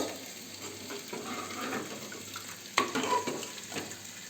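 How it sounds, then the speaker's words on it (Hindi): Kidney beans, a mix of chitra and red rajma with lobia, tipped into onion-tomato gravy in a pan, giving a soft sizzle and stirring with a few faint clinks of a utensil against the pan. "अब इसमें डाल दूँगी मैं राजमा"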